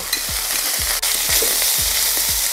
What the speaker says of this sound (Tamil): இப்போ சிக்கன் வந்து கொஞ்சம் ஃப்ரை ஆகிக்குது